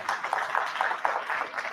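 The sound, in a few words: audience applause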